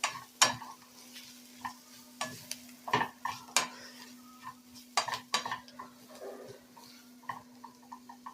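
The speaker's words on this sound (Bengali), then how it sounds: "পেঁয়াজের সঙ্গে কিন্তু মশলাটাকে আমি কষিয়ে নেব।" Onion and spices frying in a pan for chicken bhuna, a quiet sizzle broken by repeated sharp clinks and scrapes of a metal spoon stirring against the pot, irregular and close.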